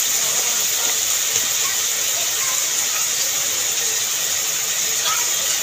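Washed shrimp hit hot oil and fry with a dense, steady hiss and crackle that holds at an even, loud level throughout, close by and with no talking over it.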